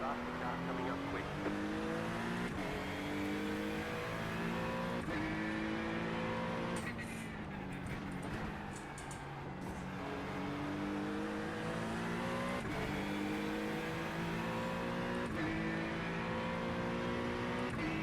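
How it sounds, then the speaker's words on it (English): A faster race car closes in from behind during an endurance race at Daytona in iRacing, its engine note rising and falling through gear changes, with a driver's voice heard over the drone. "Faster car coming up quick."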